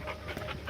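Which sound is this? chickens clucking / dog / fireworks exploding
dog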